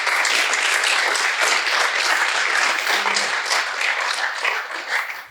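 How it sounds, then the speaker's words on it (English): A round of applause from a workshop audience, dense steady clapping that stays strong for several seconds and then tapers off at the end. "Give him a round of applause."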